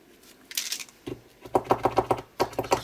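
A dip pen nib scratches across paper while sketching tree branches, first as scattered strokes and then as a quick, even run of short, scratchy strokes, close and clear.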